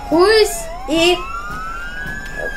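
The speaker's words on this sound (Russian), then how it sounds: "останавливаем сирену, а то будет всем мешать спать" A police car siren in the Roblox Jailbreak video game wails in loud rising sweeps that then trail off into a fading tone, while a person speaks briefly over the start.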